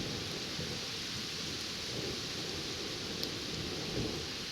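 Thunderstorm over New York Harbor with steady, dense rain hiss throughout and low rumbling thunder underneath, a close storm with no voices.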